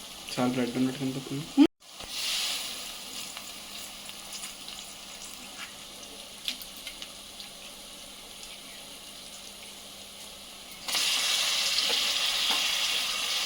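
Salt-soaked mutton hitting a hot pan for Nizami ghosh curry: a brief voice first, then a continuous sizzling hiss that carries on and swells louder near the end.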